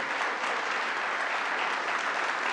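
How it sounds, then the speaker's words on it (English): A standing audience at a community center event on Mount Vernon water infrastructure applauds, a steady even wash of clapping from many hands throughout. "I want to give us a standing round of applause, standing applause to Linda McNeil"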